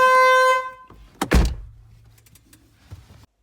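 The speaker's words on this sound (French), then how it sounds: "Mon genou est allé sur le klaxon." A loud car horn, pressed accidentally by a knee, blares steadily for about half a second, then a heavy door-like thunk follows, with faint rustling afterward.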